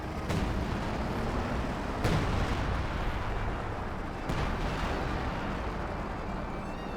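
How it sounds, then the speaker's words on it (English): An artillery barrage strikes Grenadier infantry in the World War II strategy game Company of Heroes 2, with three heavy booms spaced about two seconds apart over a continuous rumbling battle din. "Major artillery being brought on in. Great hits there on the Grenadiers."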